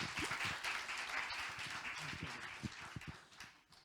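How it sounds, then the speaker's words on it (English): A conference audience gives a round of applause, a soft, continuous patter of many hands with a few sharper individual claps standing out, heard at a low level and somewhat distant. "So I think we should give him a big round of applause"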